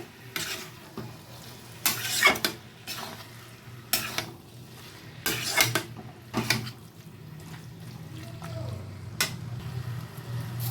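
Ground mustard and radhuni spice paste being stirred into bottle gourd curry for lau shukto, with intermittent scraping strokes of a spoon against the pan over a faint sizzle, close but quiet.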